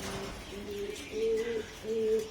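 A pair of army breed pigeons coo in low, rolling phrases, three rising-and-falling calls in steady succession, close and fairly clear with no talking.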